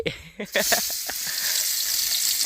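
Onion drops into hot oil and crackles, with a few sharp pops at the start giving way to a loud, steady close sizzle that fills the rest of the clip.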